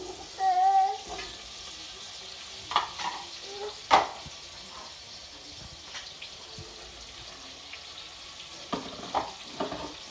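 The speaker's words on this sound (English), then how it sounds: "And that's gonna simmer down" A large pot of sauce cooking on the stove, with a soft bubbling sizzle under intermittent clinks and scrapes of stirring and handling, steady and fairly quiet.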